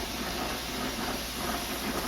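A wallpaper steamer heating up gives off a steady, broadband hiss of steam that stays constant and fairly loud throughout, close by with no voices over it.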